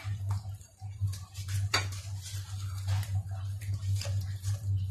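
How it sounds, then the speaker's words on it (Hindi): A spoon scrapes and clinks around a pan while milk powder is stirred into khoya over a medium flame, giving irregular close metallic taps and scrapes over a low steady hum from the stove. "ये सारा डाल दिया है मैंने पाउडर मिल्क और इसको मुसलसल चम्मच चलाएं"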